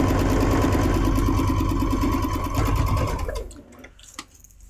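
A sewing machine stitches a quilt block in a fast, steady mechanical whir, running loud and close for about three seconds before stopping, leaving faint clicks and handling noise.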